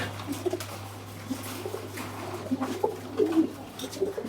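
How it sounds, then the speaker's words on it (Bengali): Pigeons in a loft cooing softly as they eat grit, scattered low coos at close range over a steady hum, with no talk. "সব কবুতর আস্তে ধীরে গ্রিট খাক"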